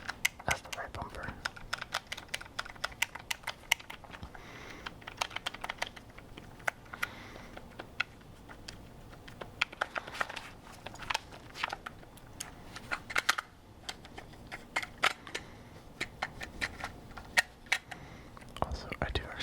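Game controller buttons and bumpers are clicked in a quiet ASMR setting, a steady stream of soft, close plastic clicks and taps with irregular rhythm, heard alone.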